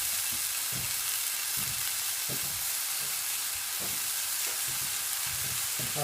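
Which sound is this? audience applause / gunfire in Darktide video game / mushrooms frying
mushrooms frying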